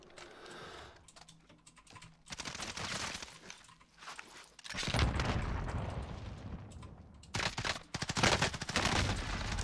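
Gunfire from the Warzone video game with an AX50 rifle: sharp shot bursts mixed with rapid computer keyboard clatter, recurring in uneven clusters throughout.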